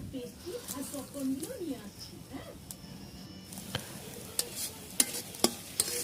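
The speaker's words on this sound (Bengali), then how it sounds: "একটু মাঝে মাঝে নেড়ে দিতে হবে।" Food boiling in salted water in a pan is stirred now and then, giving soft scraping and bubbling under a steady hiss, with a voice talking faintly in the background.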